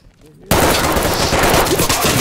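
Video game gunfire bursts in abruptly and keeps going loud and dense, rapid shots crowding together rather than single spaced cracks, with a voice speaking briefly under the racket.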